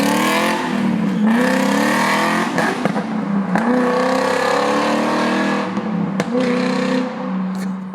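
A BMW E30 with its original 2.5 engine swapped for a V8 revs hard and loud up close, the engine note rising and falling in repeated sweeps with brief gear-change breaks between pulls.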